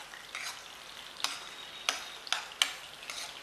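Chili chicken pieces fried with capsicum and green chili in a pan: a continuous soft sizzle broken by several sharp spatula taps and scrapes at irregular intervals, close-up, no speech.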